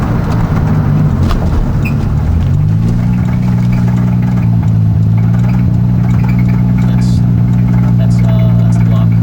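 A modified car with an engine fault in the block runs loud and close, its drone climbing in pitch around two seconds then holding steady with a rough, knocking edge, while people talk over it.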